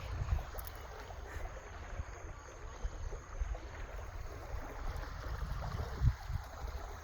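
Water flows gently at Sunken Meadow State Park near Long Island Sound, a soft, steady wash under low rumbling wind noise with a few faint bumps, no voices.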